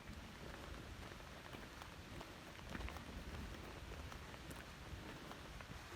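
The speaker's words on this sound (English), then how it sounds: "It started raining and hailing a bit." Rain falls steadily on a mountain trail near treeline in Colorado, a faint, even hiss of drops with occasional sharper ticks from a bit of hail, continuous and without voices.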